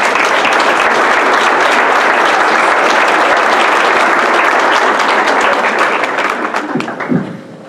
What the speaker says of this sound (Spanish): recibámosla con un fuertísimo aplauso